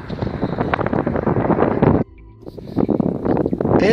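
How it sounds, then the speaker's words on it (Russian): Wind buffets the microphone at a graveyard in Zabaykalsky, Russia, with a loud, rumbling roar that drops away briefly near the middle, then gusts back in. "это забайкальский ветер."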